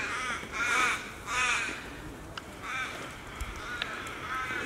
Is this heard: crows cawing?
yes